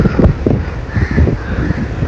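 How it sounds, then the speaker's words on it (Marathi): A few harsh cawing calls from a crow ring out over a rustle of wind in Sanjay Gandhi National Park, fairly close and loud. "त्यात पक्ष्यांचा आवाज आणि किती सुंदर वाटतं."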